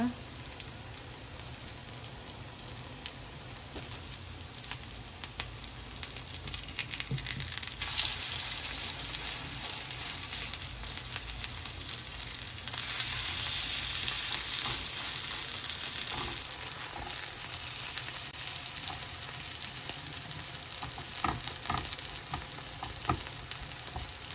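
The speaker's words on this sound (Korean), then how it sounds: "지금 노릇노릇 맛있게 구워지고 있죠?" Chive and oyster pancake frying in a pan, a steady close sizzle and crackle that swells louder partway through, continuing evenly with faint occasional stirring sounds.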